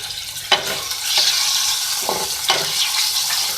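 Small boneless chicken pieces frying in a pan, a steady close sizzle broken by several scraping stirs of the spatula, with no one speaking.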